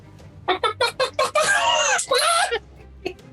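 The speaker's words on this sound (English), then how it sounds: "I've elected to ignore the presence of the chickens." Sharp chicken clucks in a quick run of five bursts, then longer squawking cries, loud and close, played as a sound effect during a tabletop role-playing game, with a brief soft sound trailing after.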